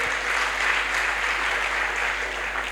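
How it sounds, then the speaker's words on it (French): A congregation applauds during a church fasting-and-prayer service, with dense, sustained clapping that holds steady throughout, and no voices stand out. "Please clap for the Lord."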